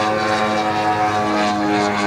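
A model aeroplane with a propeller engine, all built up with an epoxy glass fibre finish and painted in US Coast Guard colours, flies at the LMA Cosford model show, its engine droning loud and steady throughout.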